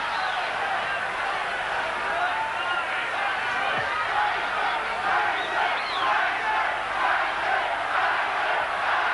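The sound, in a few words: boxing crowd jeering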